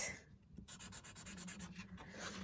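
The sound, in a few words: writing on card with a Wild Mulberry glitter marker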